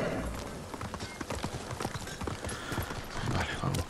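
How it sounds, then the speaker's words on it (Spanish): Horse hooves clip-clop at a steady trot in the Ghost of Tsushima video game, a continuous rhythmic run of close knocks with a voice talking over them. "Así que vamos a ir al caballo."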